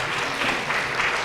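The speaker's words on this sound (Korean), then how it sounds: "박수 한번 해주세요." Congregation at a New Year thanksgiving church service clapping in a continuous, dense round of applause, steady and fairly close, with no talk over it.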